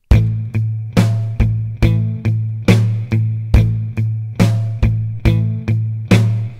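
A 4-4 drum pattern at 70 BPM with a familiar-sounding guitar part layered on top: steady, evenly spaced struck hits with sustained low tonal notes between them, loud and close with no talking.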